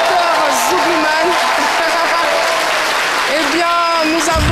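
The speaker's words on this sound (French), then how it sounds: "Merci de l'applaudir très très fort." Studio audience applauding a zouglou singer as he is welcomed onto a live midday TV show set, a steady dense clapping wash with music tones running underneath.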